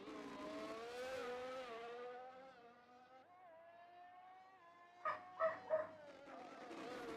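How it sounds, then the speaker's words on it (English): A dog barking three quick times in a home, faint and somewhat distant, under the steady whine of race cars from a Formula 1 Azerbaijan sim-racing broadcast. "Excuse my dog if you can hear him."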